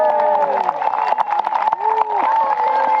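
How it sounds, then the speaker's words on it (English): Crowd cheering and clapping at a medieval armoured combat show, a steady wash of applause with whoops, mixed with a loud announcer's voice talking over it. "Give him a round of applause, ladies and gentlemen"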